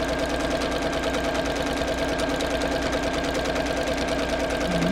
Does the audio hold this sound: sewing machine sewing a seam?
yes